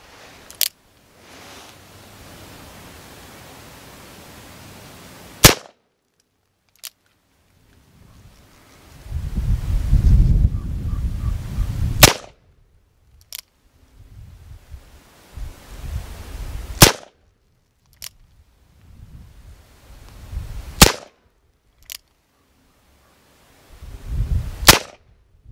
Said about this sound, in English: These are going to be the first rounds downrange out of the Cimarron 1858 New Army conversion in 45 Long Colt.